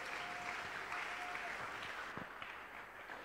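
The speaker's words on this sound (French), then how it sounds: "Est-ce qu'on peut acclamer la parole de Dieu?" A church congregation applauds the word of God, sustained clapping that fades and thins toward the end, with a few louder claps standing out.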